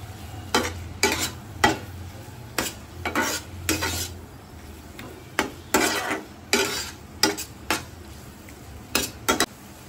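Egg bhujia with chopped coriander leaves stirred in a pan, a spoon scraping and clinking against the metal at an uneven rhythm over a faint, steady sizzle.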